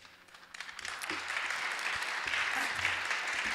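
Audience applause at a ward aldermanic election runoff forum, a broad wash of many hands clapping that swells after a soft start and holds steady and fairly loud.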